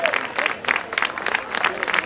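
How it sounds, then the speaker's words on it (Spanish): Scattered applause at an end-of-campaign political rally for municipal and regional elections, uneven bursts of clapping that rise and dip in clusters, moderately loud against a murmuring crowd. "esa gente también merece un aplauso y os lo pido desde aquí en este momento"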